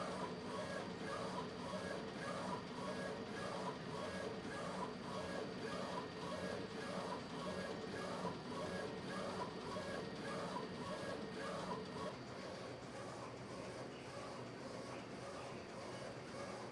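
A printer in a studio runs a print job, a steady mechanical churn with a regular repeating pulse of carriage passes continuing throughout, close and constant.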